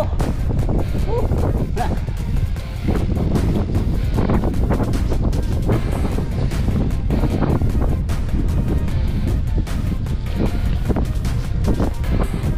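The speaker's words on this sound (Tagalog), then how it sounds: "Oh, yan na yung hangin." Strong gusty typhoon wind buffets the microphone continuously during a bike ride in Malico, San Nicolas, Pangasinan, with roaring rushes of air and a faint background of water or surf.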